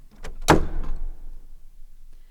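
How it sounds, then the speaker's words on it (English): A door slams shut with a single sharp bang in a live radio-play staging of A Christmas Carol, a close, loud impact with a quick rattle just before and a short fading ring after, with no talk over it. "walked in, lighted a candle, Bah! Bah! and closed the door with a bang."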